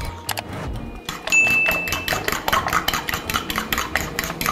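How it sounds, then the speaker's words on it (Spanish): Eggs being whisked with salt in a bowl, a fast, steady run of rhythmic clinking and tapping strokes, loud and close, with no voice. "Agregamos sal y vamos a darle caña. Ahí está. Vamos a batir perfectamente."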